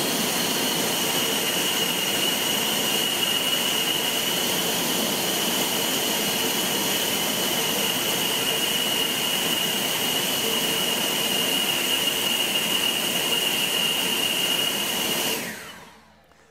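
EGO 650 CFM battery leaf blower running at full power, a loud, steady jet-like whoosh with a high whine held unbroken up close, then cut off sharply at the end.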